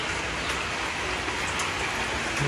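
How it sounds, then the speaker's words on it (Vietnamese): Steady, dense hiss of heavy rain falling, with rainwater running off into a fish pond at a guppy farm during the rainy season; a continuous loud wash with no talking. "nước mưa bao nhiêu nước mưa dồn chảy hết vô trong hồ đó luôn á"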